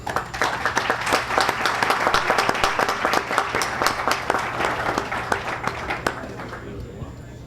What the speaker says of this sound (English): Please applaud Inspector Nanton.